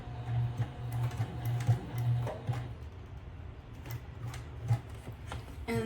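A sewing machine stitches a shoulder bag, its needle ticking in a quick, uneven mechanical rhythm with a low motor hum, close by and with no voices over it.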